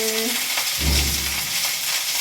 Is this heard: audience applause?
no